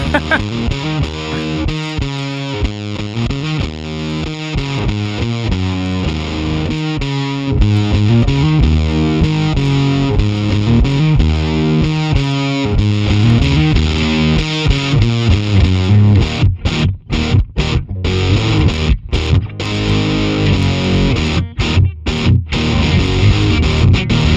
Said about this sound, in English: How about fuzz? Do you want to go for a fuzz, Kyle?